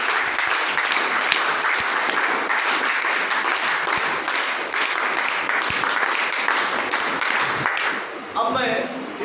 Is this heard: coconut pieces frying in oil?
no